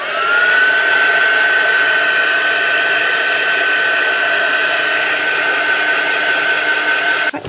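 A heat tool or hair dryer drying paint on a junk journal tag, blowing at a steady loud whine with a constant high tone throughout, close up and alone, switching off abruptly at the end.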